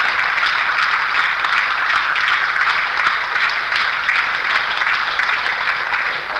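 Sustained audience applause from a large crowd at a Hindi talk event, a dense steady wash of many hands clapping at even loudness throughout, with no voices over it.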